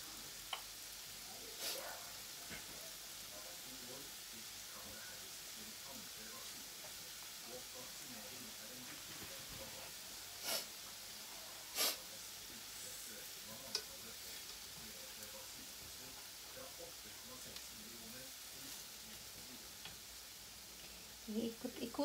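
Chicken barbecue marinated in coconut milk and oyster sauce sizzles on a grill without oil, a continuous soft frying hiss with occasional pops and crackles, fairly quiet, while a person talks over it now and then.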